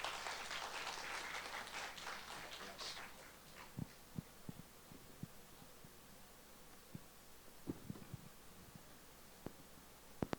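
Audience applause welcoming a speaker at a meditation forum, loud clapping at first that fades within a few seconds into sparse, faint claps and knocks over a low hum.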